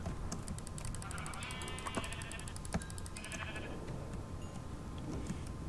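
Sheep in the Minecraft video game bleat twice in short wavering calls, over a quiet backdrop with light keyboard tapping.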